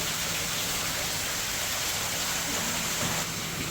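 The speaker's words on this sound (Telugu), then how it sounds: "వర్షం అయితే కొంచెం స్టార్ట్ అయ్యింది" Steady rain hisses down in a dense, even wash of noise, moderately loud and continuous throughout.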